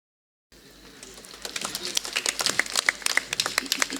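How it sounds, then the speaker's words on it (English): Audience applause at a school annual day celebration starts after a short silence and swells into dense, crisp clapping, near and fairly loud, building in intensity through to the end. "Let us all cheer them up with a big round of applause."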